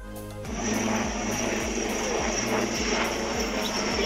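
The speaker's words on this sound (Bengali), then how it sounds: "হ্যাঁ মাম্মা, হেলিকপ্টার।" A helicopter passes over a rocky beach on Neil Island, its rapid rotor thump pulsing steadily under a loud, broad engine roar that swells in after a quieter first half-second and holds.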